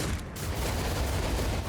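Turrets open fire in the Rogue Trader video game, a dense, unbroken barrage of rapid shots that stays loud for the whole short stretch.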